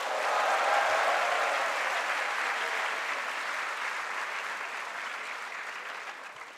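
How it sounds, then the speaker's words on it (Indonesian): An audience of high school students at SMA Taruna Nusantara claps for Bapak Cecep Iskandar during a lecture session, a dense, sustained round of applause that swells at the start and slowly fades toward the end. "Berikan tepuk tangan kepada Bapak Cecep Iskandar"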